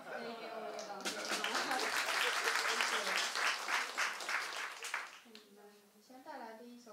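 An audience applauds before a jazz sextet with double bass and trombone plays its first piece. A voice speaks briefly first, then the clapping runs for about four seconds and fades as talking resumes.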